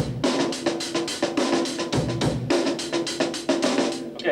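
A sampled one-bar drum loop repeats in a dense, punchy groove of kick, snare and cymbals, slightly gritty in tone, with no voices.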